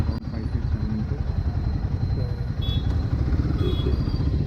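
A Royal Enfield Guerrilla 450 motorcycle on a test ride gives a steady low engine rumble mixed with wind and road noise, heard up close throughout.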